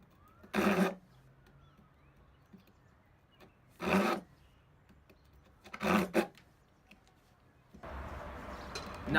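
A wooden tenon is rasped by hand in three short separate strokes, close and fairly quiet, followed by a longer burst of scraping at the end.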